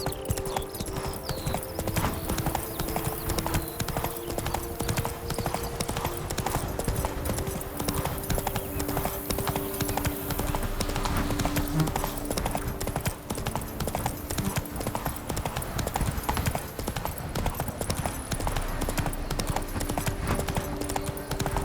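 Geralt's horse Roach trotting in The Witcher 3, a steady, fast clip-clop of hooves that carries on throughout over a constant background bed, with a brief voice near the start.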